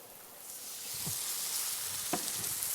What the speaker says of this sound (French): on va mettre un petit morceau de beurre que vous avez devant vous dans la poêle. Un filet d'eau.